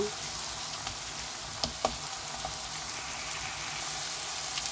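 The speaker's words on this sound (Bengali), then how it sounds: "2 টেবিল চামচ আদা রসুন দিয়ে দিব। ভালো করে কষিয়ে নিব এটা।" Ginger garlic paste frying in a hot pan, a steady close hiss of oil sizzling with a couple of faint clicks from the utensil.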